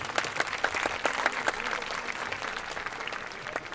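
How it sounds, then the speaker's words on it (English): A school-day audience applauds student storytellers after their performance, a dense, steady wash of many hands clapping that stays loud and then eases slightly toward the end, with no voices over it. "Please give them another round of applause."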